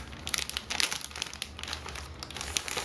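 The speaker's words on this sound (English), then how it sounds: "So let me just open the plastic bag and show you the items." A plastic bag holding beauty products is opened, giving a continuous dense crinkling and rustling close up with no talking.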